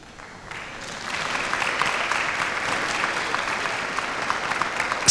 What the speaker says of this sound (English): Please give these gentlemen a round of applause as they come to the stage.